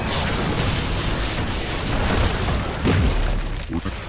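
Fort destroyed explosion in the video game Heroes of the Storm, a dense rumbling blast with a deep boom that swells near the three-second mark and holds loud throughout.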